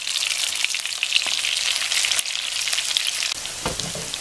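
Salmon steak and garlic frying in a covered pan, a loud, continuous crackling sizzle close by with bursts of spitting oil and a brief clatter near the end.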